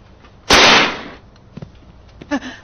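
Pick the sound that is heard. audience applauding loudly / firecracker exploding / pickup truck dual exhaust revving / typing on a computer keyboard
firecracker exploding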